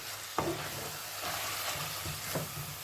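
Tomato sauce with tomato concentrate is stirred in a pan over low heat, giving quiet scraping strokes and a few soft knocks over a faint, steady sizzle.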